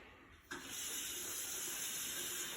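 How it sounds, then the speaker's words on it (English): Warm tap water runs steadily into a sink for handwashing in a home kitchen cooking class, starting abruptly and continuing as a close, even splashing rush. "First, let's wash our hands. Nice warm water."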